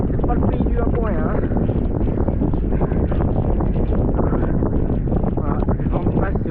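Heavy headwind buffets the microphone with a constant low roar while a rider talks over it, cycling past vineyards in a gravel race near Bordeaux.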